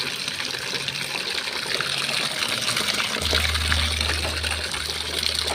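Water running from a faucet while laundry is rinsed by hand, a steady close hiss and splash of flowing water with shifting low hums throughout, no voices.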